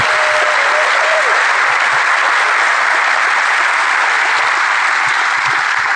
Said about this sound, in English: will you give our panel a round of applause for being here?